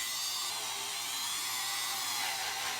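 Small abrasive discs on a spinning tool grind at curb rash on the edge of a car wheel, giving a steady, close, high-pitched whirring hiss that holds even throughout.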